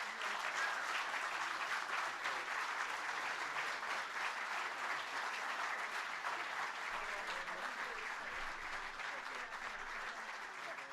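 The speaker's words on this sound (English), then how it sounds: "How about a round of applause for all these folks?" Sustained audience applause at a National Small Business Week event, many hands clapping in a steady, fairly distant roomy wash that holds at an even level throughout.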